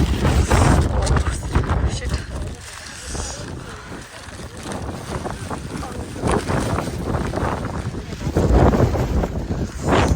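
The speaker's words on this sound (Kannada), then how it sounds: "ಅಲ್ಲಂತೂ ನೆಕ್ಸ್ಟ್ ಲೆವೆಲ್ ಗಾಳಿ ಇತ್ತು ಗೈಸ್" Strong gusts of wind buffet the microphone on the Devara Mane hilltop, a loud rushing, rumbling roar that rises and eases in waves throughout.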